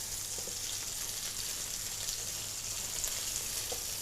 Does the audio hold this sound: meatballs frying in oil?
yes